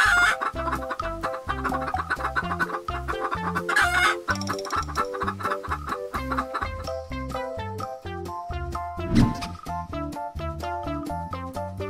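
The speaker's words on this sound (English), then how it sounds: "Japanese Bantam." A Japanese Bantam chicken clucks in quick repeated bursts, then lets out several crows, close and loud, with rhythmic clucking continuing throughout and a brief sharper call near the end.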